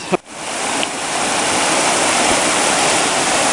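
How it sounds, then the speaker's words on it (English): A small waterfall on Ledbetter Creek rushes in a steady, close, full-bodied roar of falling water that continues without a break, after a brief knock at the start. "A nice little waterfall. This place is really scenic along Ledbetter Creek."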